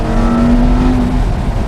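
A 2007-era supercar, a Ferrari 430 Scuderia, Porsche 997 GT3 RS or Lamborghini Gallardo Superleggera, drones loudly from inside the cabin with the windows down. A steady engine tone holds briefly, then drops away as it shifts down.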